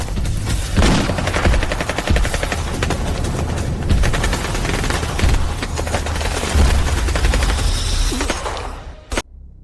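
Heavy, dense gunfire from several weapons in a dramatic fantasy battle, continuous loud rattling volleys with occasional booms for most of the clip, then a sudden cut to near silence broken by one last sharp shot.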